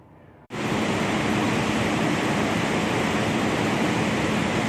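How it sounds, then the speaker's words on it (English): A giant waterfall roars as a loud, steady broadband rush that bursts in abruptly after a quiet moment and then holds constant and close, with no talking over it. "next to a giant waterfall"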